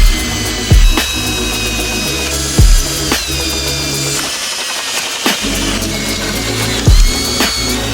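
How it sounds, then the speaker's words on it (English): Power drill boring holes to mount tube fenders on a Jeep Wrangler TJ, in several short bursts with loud thumps and ratcheting clicks between them, close and alone with no talk. "We have a couple holes to drill."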